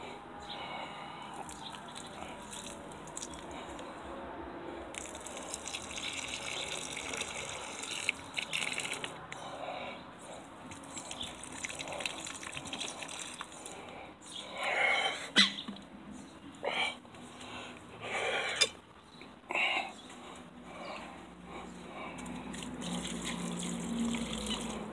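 Water running steadily as a tomato plant is watered outdoors, a continuous gushing and splashing stream lasting throughout, with a few louder splashes and knocks near the middle, no talking.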